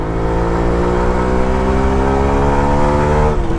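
A Suzuki Max 100R motorcycle engine accelerates hard while riding, its loud buzzing note climbing steadily in pitch, with a brief dip near the end as it shifts up through the gears.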